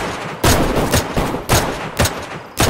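Heavy gunfire in the survival game DayZ, a loud series of separate close shots, about six booming reports at uneven intervals.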